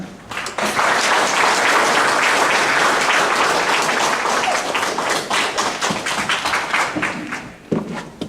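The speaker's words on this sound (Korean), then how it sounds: "큰 박수로 맞아주시기 바랍니다" An audience claps warmly to welcome a lecturer of Korean medicine at a company talk, loud dense applause rising quickly and holding steady before thinning out into scattered claps near the end.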